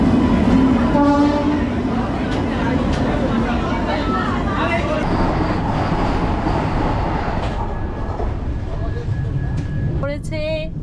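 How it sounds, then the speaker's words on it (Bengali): A Digha–Puri Express train waits at platform 4 of Panskura station amid busy, continuous rumble and station bustle, with people talking nearby and sharp horn blasts near the end. "এখন আমাদের ট্রেনটা দাঁড়িয়েছে 4 নম্বর প্ল্যাটফর্মে"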